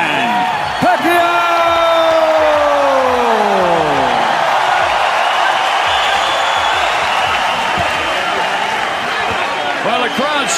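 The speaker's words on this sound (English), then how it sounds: "the crowd's certainly into it" Boxing arena crowd roars loudly before the Pacquiao–Rios fight, a dense continuous wall of cheering and shouting with a ring announcer's voice trailing off at the start.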